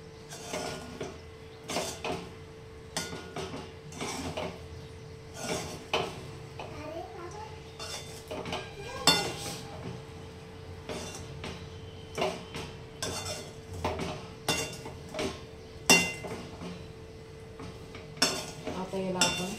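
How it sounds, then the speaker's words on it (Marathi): Sabudana khichdi being stirred and sautéed in a pan in a home kitchen, with repeated scraping knocks and clinks of a spoon against metal at an irregular rhythm, while voices talk nearby. "आता छान त्याला असं परतून घेऊया."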